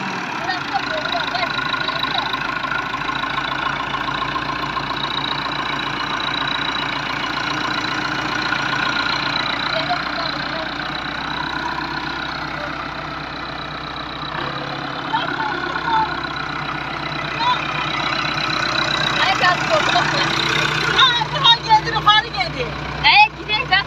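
A tractor engine idles with a steady low diesel rumble and then revs more roughly as the gas pedal is pressed, heard close up under ongoing speech.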